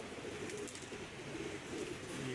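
Teddy pigeons coo steadily and close by, their soft, throaty calls overlapping in a continuous low murmur with no talking.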